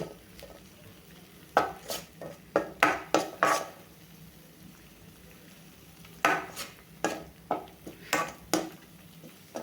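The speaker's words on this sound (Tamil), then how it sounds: "இந்த பச்சை ஸ்மெல் போகிற வரைக்கும் நல்லா வதக்கி விட்டுக்கலாம்" A spoon scrapes and knocks rhythmically against a pan while tamarind chutney (puliyangai thuvaiyal) sautés, two bursts of brisk stirring strokes over a low fry hiss, close and clear.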